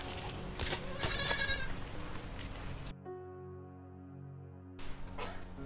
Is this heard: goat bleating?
yes